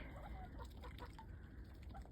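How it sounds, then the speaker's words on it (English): Hens step out into the snow clucking softly, a few short, faint calls over a low steady background hum. "We got the chickens coming out."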